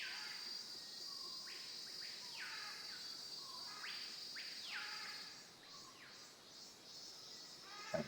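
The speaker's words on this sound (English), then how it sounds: "What bird sounds are these, by the way?" Bird calls in the Nancy Drew: Secret of the Scarlet Hand video game, with short rising chirps repeating in small bursts over a faint, steady insect-like ambient hum, fairly quiet and without talk.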